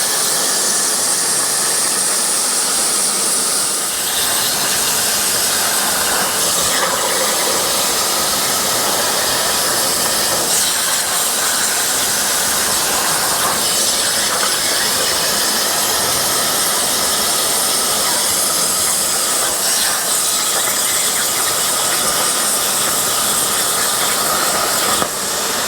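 A new shop cutting machine, likely a plasma cutter, runs continuously with a loud, steady hissing, airy roar that stays constant throughout, with no talking.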